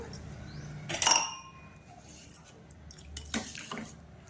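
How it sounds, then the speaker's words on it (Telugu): A short splash of water being poured into lentil batter near the start, followed by soft clinks and scraping sounds in a quiet room. "కొంచెం వాటర్ వేస్తున్నాను"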